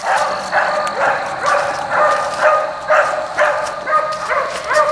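Dogs in the runs of a kennel bark in a steady, repeated rhythm, about two sharp barks per second, fairly close and loud, with no one speaking over them.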